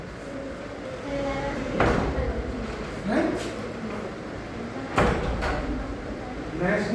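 Classroom door opening at a school in Kishanpur, a couple of short wooden knocks and creaks among room noise while people talk over it.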